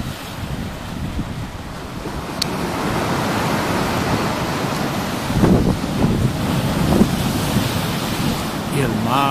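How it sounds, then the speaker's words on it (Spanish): Sea waves at sunset in Mallorca: a continuous broad roar of surf with wind buffeting the microphone, swelling slightly midway, with a few faint knocks and no talking. "Y el mar sigue rugiendo."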